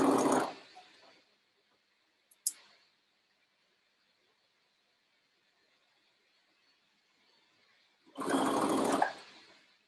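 A sewing machine stitches fabric for a bodice lining and facing, running in two loud, close bursts of steady whirring separated by a long quiet pause with a single brief click.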